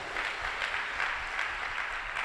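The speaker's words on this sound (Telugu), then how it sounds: "కొట్టు చప్పట్లో ఒకసారి" A church congregation at a sermon claps steadily throughout, a dense wash of applause with no break and no voices on top.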